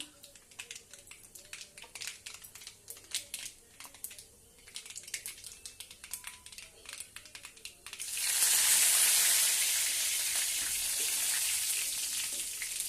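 Fresh curry leaves drop into hot oil for a ridge gourd chutney, starting with faint crackles and pops and then bursting into a loud, steady hiss of frying that continues to the end, close by.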